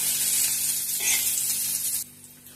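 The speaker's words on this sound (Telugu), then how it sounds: "ఉల్లిపాయలు మనకు ఫ్రై అయ్యాక" Onions frying in a pan for Maggi noodles, a bright close sizzle with light stirring that drops suddenly to a quieter hiss near the end, with no talking.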